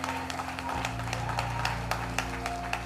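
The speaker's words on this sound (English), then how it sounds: "Come on, give God a hand clap." Congregation at a church service claps hands in quick, scattered claps, moderately close, over sustained music with steady low tones throughout.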